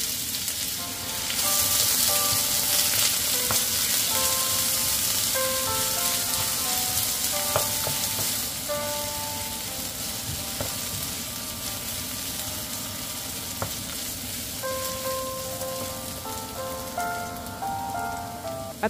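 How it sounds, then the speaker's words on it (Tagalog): Onion and ginger sauté in hot oil, giving a long, steady sizzle like heavy rain on a surface. Occasional sharp pops and spatters sound close by and fairly loud, and nobody speaks. "Sa mainit na mantika, sabay kong iginisa ang sibuyas at luya."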